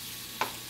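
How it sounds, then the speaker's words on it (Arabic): Chicken breast frying in a pan and being stirred: one short scrape of the utensil cuts through a steady, soft sizzle. "ودائما تظلون تقلبون بالطبخ حتى لا يلزق بالطاوة"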